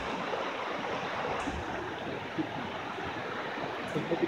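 Steady rushing water of Junaluska Creek in Cherokee County, North Carolina flows continuously, a broad even wash of sound with faint occasional splashes, heard alone without any voices.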